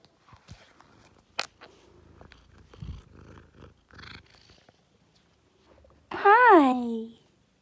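A cat gives one quiet, rising meow near the end, after a few soft rustles and faint purring sounds, with a person speaking gently nearby.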